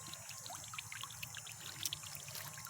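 A solar fountain splashes water in a garden bird bath, giving a soft, steady trickle and patter with small irregular drips, faint and close.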